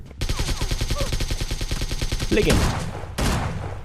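A burst of rapid gunfire in PUBG Lite, loud and sustained, followed by a couple of sharper shots near the end.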